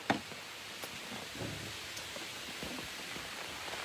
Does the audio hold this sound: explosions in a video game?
no